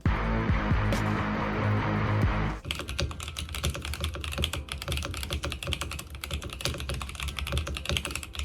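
Rapid, dense typing on a Monsgeek MG75 mechanical keyboard after a brief stretch of other sound, a steady stream of close, crisp key clacks with no talking.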